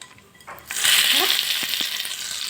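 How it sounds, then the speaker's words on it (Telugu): A sudden loud sizzle erupts as a hot oil tempering of cumin and mustard seeds hits peanut-coconut chutney, crackling and hissing steadily after a quiet start. "పోపు అనేది చట్నీలో వేసుకోవాలి"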